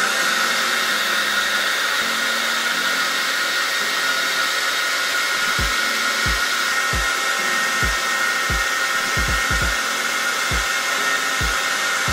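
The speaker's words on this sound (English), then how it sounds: "most importantly with a hairdryer." Hair dryer blowing steadily and loudly on a bald cap while it is worked with a rat tail comb, with faint low thumps scattered through the second half.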